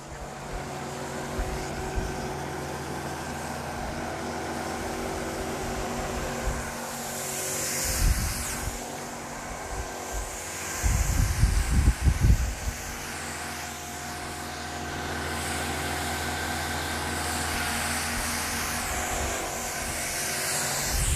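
A sweeper's rotating brushes run with a steady, close, motor-like hiss and whir while sweeping up scattered stones, swelling into a louder rough churning rumble midway before settling back into the constant whir, with no talking.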